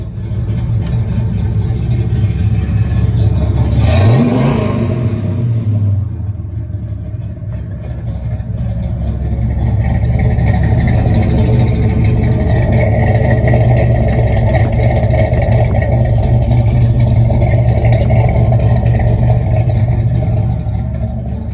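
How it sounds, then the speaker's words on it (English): A 1970 Dodge Charger's engine running through its exhaust, a loud, close, steady rumble with a brief rev burst near the start, then an even idle. "Let's listen to the exhaust."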